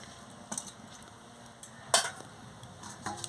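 Turnip and potato curry with salt is stirred in a pan, giving a quiet background hiss broken by a few scattered scrapes and one louder clack of utensil on metal, with no voices.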